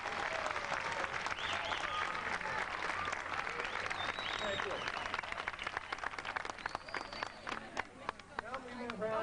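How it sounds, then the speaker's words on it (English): Audience applause at a 1988 eighth grade graduation ceremony at Bruce School in Lawrence, Massachusetts: dense, steady clapping from a crowd filling the room throughout, with a voice briefly speaking over it. "How about a nice round of applause for our gentlemen this evening?"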